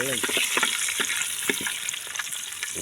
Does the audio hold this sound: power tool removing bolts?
no